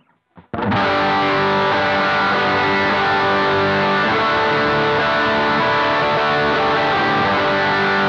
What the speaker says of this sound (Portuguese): Então agora eu vou colocar uma distorção e vamos fazer a distorção em todas elas no captador do braço e depois da ponte.